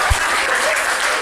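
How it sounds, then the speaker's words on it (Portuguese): Brief burst of audience applause at a group meeting, a dense wash of clapping hands lasting just over a second. "Uma salva de palmas para a Milka que..."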